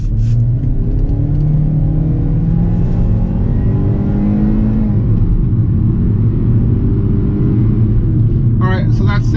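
A 2021 Kia Forte LX-S in sport mode accelerates at full throttle, its engine droning loudly and rising in pitch through steady upshifts, with a brief voice near the end.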